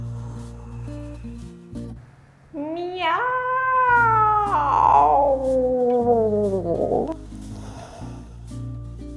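A person imitates a long, drawn-out cat meow during a cat yoga pose, a loud close wailing call rising and then sliding down over several seconds, sounding like a caterwaul, after a brief low pause.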